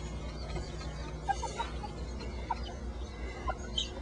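Backyard chickens, including a hen and her chicks, squabble at breakfast on a rainy day, with scattered short clucks and squawks over a low steady background hum.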